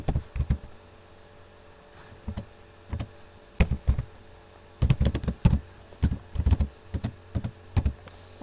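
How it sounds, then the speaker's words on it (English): Keys clatter on a computer keyboard in short, uneven bursts of close taps, pausing between clusters over a faint steady room hum, with no voices. "I'm having a hard time typing today"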